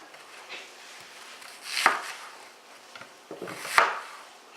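A knife slicing onions on a cutting board for beef stew, with a few spaced, close-up chops and sharp knocks of the blade against the board amid soft rubbing.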